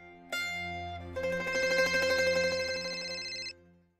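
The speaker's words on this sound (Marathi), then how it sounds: "सकपाळांचा फोन आहे." A phone rings in a scene from the Marathi TV serial Honaar Soon Mee Hyaa Gharchi with a melodic electronic ringtone. It starts with a single tone, swells into a fuller chiming pattern, then cuts off abruptly.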